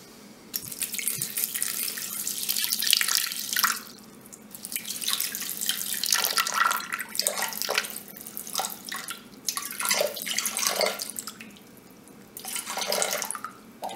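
Water poured from a tap into the bowl of a Thermomix TM6 food processor, a steady close splashing stream that swells and eases in waves for several seconds, with no voices.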